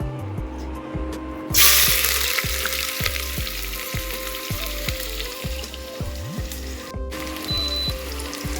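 Onions sizzle and fry in hot oil in a pressure cooker while goat meat is being prepared, a loud steady hiss with a sharp burst as they hit the oil and regular stirring scrapes underneath.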